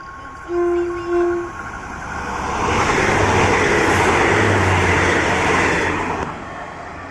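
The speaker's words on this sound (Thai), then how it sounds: "ไปแล้วครับขบวน 75 นะครับ ไปอย่างราบรื่นเลยนะ ไปด้วยความเร็วจริงเลยนะครับผม" Express train number 75 passes at full speed, around 100 km/h, a loud rushing roar of wheels and carriages that swells and holds steady, with a couple of brief horn-like tones near the start.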